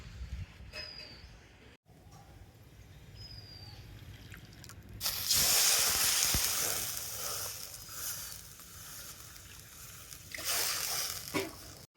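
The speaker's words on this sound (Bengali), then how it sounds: "এই বাটি মাপ করে আমি 2 বাটি জল কড়াতে দিয়ে দিচ্ছি।" Water is poured from a bowl into a kadai (frying pan) to start a sugar syrup: a loud, close rushing splash lasting a few seconds, then a quieter pause and a second shorter pour.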